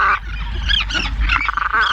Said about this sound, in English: A family squabble distracts attention long enough for a waiting seagull to steal an unattended egg.